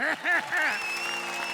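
Studio audience at a Hindi comedy stage show claps through a brief, loud burst while voices call out over it, then the clapping settles into a steady backdrop.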